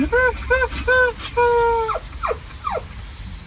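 A dog whimpers in a rapid run of high pulsing whines, then a longer whine and several sharp, descending yelps, loud and close.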